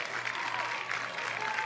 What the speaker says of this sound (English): Wildcat fans were making noise